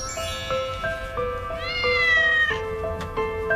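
A three-day-old newborn kitten mews repeatedly in thin, high, wavering cries, close and fairly loud, with a few longer drawn-out calls among short ones.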